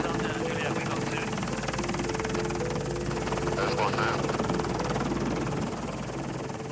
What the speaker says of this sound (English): Spooked by the noise of the helicopter